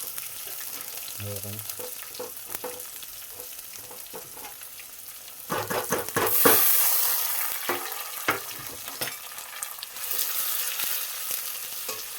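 Curry leaves, tomato, onion and chilies fry in hot oil in a pan for Gujarati poha, a steady close sizzle with scraping stirs and a louder hissing burst as ingredients hit the pan.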